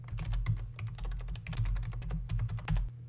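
Rapid, continuous keystrokes on a computer keyboard type out a file rename command, crisp close clicks in a dense run over a low hum, with no one talking.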